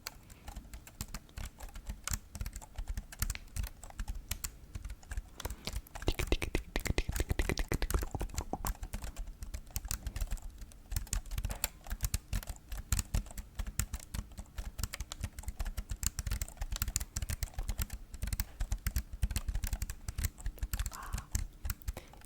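Fast, dense typing on a non-Apple computer keyboard, a continuous close clatter of key taps with brief pauses, steady and intimate in an ASMR setting.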